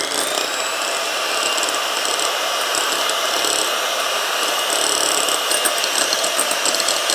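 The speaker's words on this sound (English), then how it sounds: "drop a pinch of salt to it and keep whisking at a higher speed" Electric mixer whisking egg whites with a pinch of salt at high speed for a gluten-free lemon almond cake, a steady loud whirring buzz with rattling beater noise running continuously throughout.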